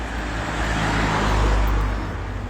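Cars roll along a Prague street in steady traffic, a close, continuous roadway roar that swells slightly midway as a vehicle passes nearby.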